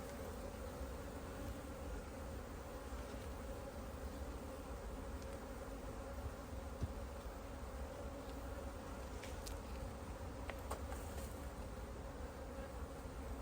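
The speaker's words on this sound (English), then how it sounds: "The bees down by my feet at the moment" Honeybees swarm around a hive super during honey extraction, a dense, steady buzzing that fills the whole stretch with no talk.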